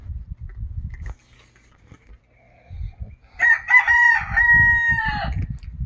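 Talk is followed by a pause, then a nearby rooster gives a loud, full crow of about two seconds outdoors on a warm morning, and speech resumes underneath its final notes.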